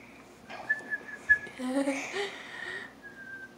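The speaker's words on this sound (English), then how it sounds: "They don't ever react to whistling." Someone whistles a few short, clear notes near bantam Cochin chicks, with faint soft chirping and background noise in between.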